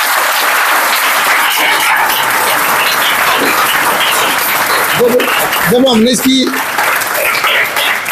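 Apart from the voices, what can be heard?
children clapping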